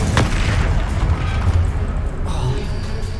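The Incendio fire spell cast in Hogwarts Legacy, a loud whooshing burst of flame with booming impact, sustained and roaring across the moment, with a sharp crack at the start.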